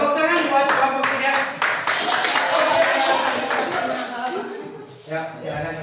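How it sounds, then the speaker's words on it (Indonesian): A classroom of students claps for a group coming forward to present, a loose burst of hand claps lasting several seconds before thinning out, with a little murmuring at the end. "Tepuk tangan buat kelompok 3"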